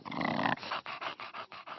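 A bulldog snorts, grunts and growls in a steady run of short, close, rough bursts, a long throaty growl first, then about six choppy snorting pulses with no one speaking.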